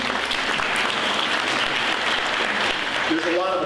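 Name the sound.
graduation audience applause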